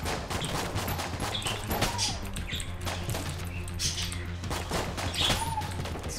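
Unfinished Gun firing in Enter the Gungeon, a steady run of rapid shots with game effects layered over a constant background tone, loud and close throughout.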